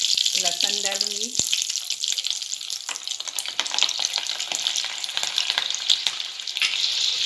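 Garlic and curry leaves sizzle in hot oil over a low flame for Konkani kadi pakode, a steady close frying crackle with a few stirring scrapes and a brief tonal clink near the start.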